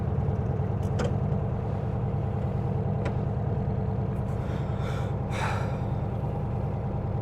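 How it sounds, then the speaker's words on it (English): Road traffic passes outside during an inspection of a 1969 VW Beetle, a steady broadband engine rumble with a few brief swishes of vehicles going by, no talk. "Traffic."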